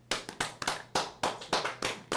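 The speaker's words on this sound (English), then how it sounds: "we want to give you a round of applause" A small studio audience gives a round of applause, heard as a handful of loud, distinct close hand claps in an uneven rhythm.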